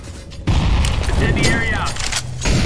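A grenade explodes in Counter-Strike: Global Offensive, a sudden loud boom followed by sustained rumbling debris and clatter, with a short whistling sweep in the middle and game effects trailing off.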